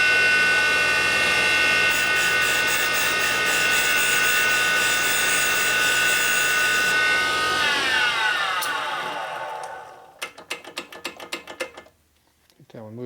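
Grinding thick metal parts, a loud continuous mechanical whine with a shifting pitch that cuts off partway, followed by short metallic clicks and rattles.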